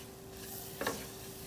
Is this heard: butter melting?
yes